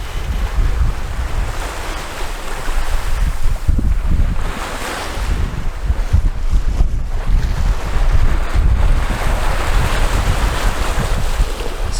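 Strong wind buffets a sailboat at sea during an ocean crossing, a loud continuous roar of wind noise and rushing water with gusts rising and falling, no voices.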